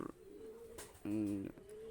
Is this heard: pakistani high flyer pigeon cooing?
yes